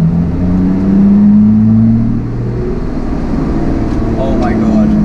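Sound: Lotus Exige Sport 380 engine revving with exhaust valve open

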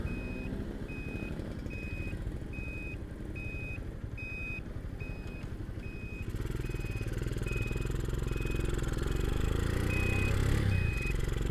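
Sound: Honda CB motorcycle engine with Scorpio aftermarket exhaust

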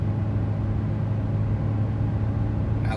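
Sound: 2017 GMC Canyon 4-cylinder truck accelerating while towing

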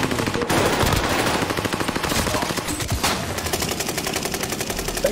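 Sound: gunfire in a video game

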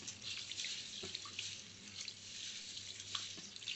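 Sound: sorghum grains rubbed by hand in water

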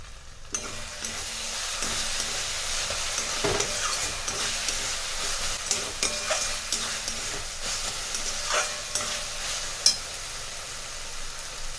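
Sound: eggplant bharta frying in oil

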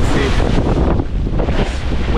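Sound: strong wind on a sailboat at sea

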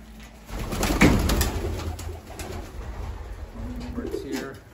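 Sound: birds cooing in a pigeon loft

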